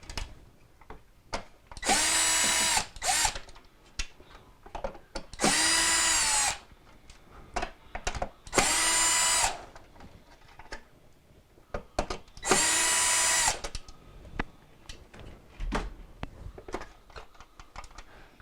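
A power screwdriver backs Phillips screws out of a refrigerator circuit board: four separate loud whirring bursts of about a second each, spaced by quiet gaps filled with small clicks and handling noises.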